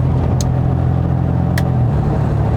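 An Aston Martin DB4 engine drones steadily while the car is driven, a continuous low rumble filling the cabin with a couple of faint high clicks over it.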